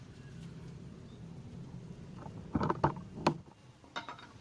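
Lug nuts are threaded and tightened onto a refitted car wheel, giving a low mechanical rumble followed by several sharp metallic clanks and ratchety knocks close by. No one speaks.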